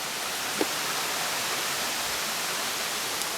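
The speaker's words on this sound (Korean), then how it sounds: "옆에는 여기 계곡물이 흐르고 있습니다" Steady broadband rushing of a mountain stream swollen by rain, continuous and fairly close, with no voices or other sounds.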